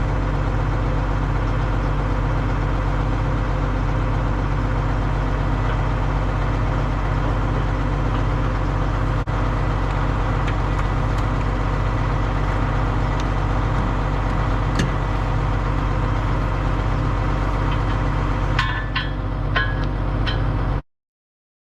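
A parked Case 2090 tractor's engine idles steadily and loudly nearby for about twenty seconds, a constant low rumble with a few faint clicks, before cutting off abruptly.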